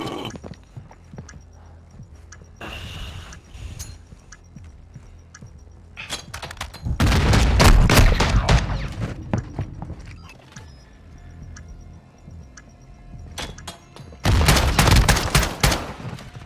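Gunfire in Call of Duty: Modern Warfare II, loud bursts of rapid shots and blasts, some heavy, broken by quieter stretches of in-game movement and ambience.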